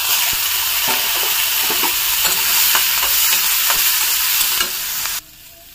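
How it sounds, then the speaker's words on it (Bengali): Onion and capsicum stirred and fried in hot oil in a kadai, a steady bright sizzle with repeated scraping stir strokes, close and loud, cutting off near the end. "তো তেলটা গরম হয়ে গেছে। এইবার পেঁয়াজ আর ক্যাপসিকাম আমি একটু নেড়ে নেব।"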